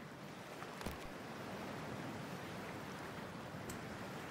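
Cold water in Cyberpunk 2077 gives a steady, fairly quiet wash of surf-like noise throughout, with a brief splash near the start and no talk.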